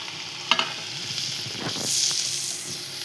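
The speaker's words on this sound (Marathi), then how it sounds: "आता आपण टाकतोय शिमला मिरची, मग टाकूया गाजर, मग टाकूया कांदा जे आपण चिरून घेतलेला आहे." Capsicum, carrot and onion frying in a pan for pasta give a steady sizzle, with a sharp clatter as they drop in near the start and a swell of hissing and stirring later.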